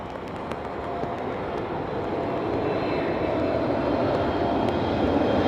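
An Etihad triple-seven airliner rumbles at Heathrow Airport in high winds, a broad, steady jet roar that slowly swells, with wind noise and no talk.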